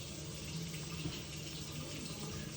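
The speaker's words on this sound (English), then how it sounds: "Let me go ahead and rinse it a little bit." Tap water runs steadily in a sink as Seiko watch parts are rinsed, a constant, fairly faint rushing flow with no break.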